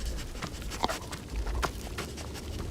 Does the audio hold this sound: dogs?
yes